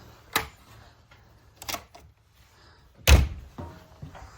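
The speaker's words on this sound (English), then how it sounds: "This also has the Dutch door, which means that this split half opens." The split top half of a Dutch door on a Peak Mtn Camp X30 camper is handled, giving a few sharp thunks and latch clacks spaced apart, the loudest near the end, with quiet between.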